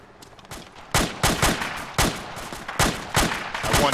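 Gunfire in the military shooter game Joint Operations, sharp repeated shots and short bursts in quick succession, loud and close with no talking.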